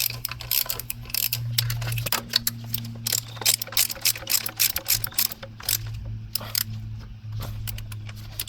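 A ratchet tightening two bolts on the vacuum pump of a VW Golf with a 2.0 or 2.5 engine, repeated close rapid clicking bursts over a low steady hum, with no speech.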